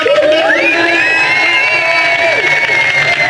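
After a rocket launch countdown at a NASA space event in Rio de Janeiro, an audience of children and adults breaks into loud sustained cheering, with high whoops and shouts soaring over the crowd noise.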